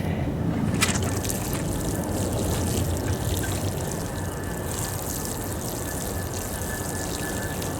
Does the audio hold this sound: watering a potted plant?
yes